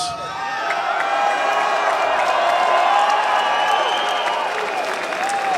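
A large wrestling-event crowd at a Hall of Fame induction cheers and applauds in a sustained, loud wave of clapping, whoops and shouts.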